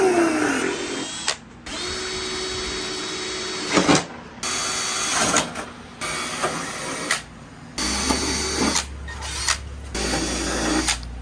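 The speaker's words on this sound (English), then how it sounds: "we're gonna go ahead and drill these holes for the sensors" A power drill boring holes for sensors in a Supra, running in several separate whirring bursts of a few seconds each with brief pauses between them, close and clear with no talking.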